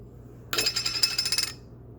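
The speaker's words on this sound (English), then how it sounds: "I'm kind of grinding that up in my hands into a finer grind." Dried dillweed is crushed between bare hands, giving a single brittle, crackling rustle that lasts about a second. It is close and clear against a quiet room.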